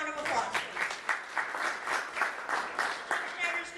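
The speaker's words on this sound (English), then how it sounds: "Everybody give him a round of applause." Applause breaks out at a Rotary club membership talk, a modest room of people clapping in a steady patter, soft and somewhat distant, with voices mixed in.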